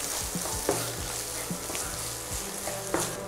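Onions, green chilies, ginger garlic paste and curry leaves sizzle and fry in a pan for okra pulusu while a spoon stirs them, with steady crackling and scraping knocks of the spoon against the pan, close and continuous.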